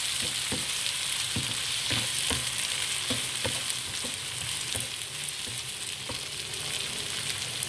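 A medium tomato fries in a pan for bee hoon goreng, giving a constant soft sizzle with intermittent light clicks of stirring throughout, fairly faint and without any voices.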